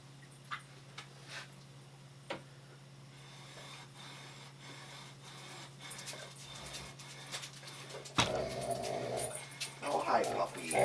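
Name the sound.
dog panting and whimpering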